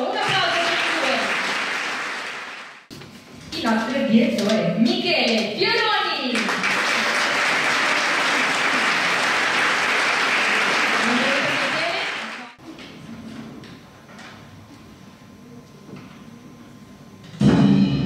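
Audience applauding a civic wind band and its conductor at a spring concert, sustained clapping swelling for several seconds then fading, with a man announcing over the start and the end.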